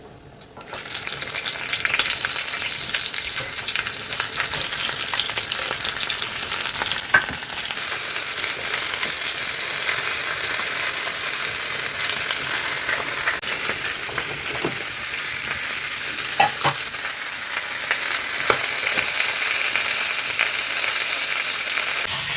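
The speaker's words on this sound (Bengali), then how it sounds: "কড়া বসিয়েছি, তেল গরম হচ্ছে।" Oil sizzles and fries steadily in a wok with a fish head, a continuous loud crackling hiss with a few sharper pops scattered throughout, no voices over it.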